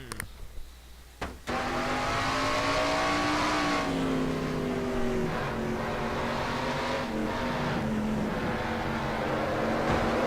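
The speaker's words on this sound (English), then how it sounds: "And you heard Shelton trying to get their car to start, and it does not" A race car that fails to pull away on a restart at Suzuka in a racing video game, its engine droning and revving loudly up close after a brief quiet opening, continuous with no talk.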